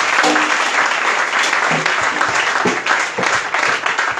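A church congregation applauds loudly and continuously, with dense clapping filling the space throughout and a faint voice or two underneath.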